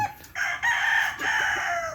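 A gamefowl broodstag rooster crows loudly and close by, a long drawn-out call with a brief break partway through, with no other sound around it.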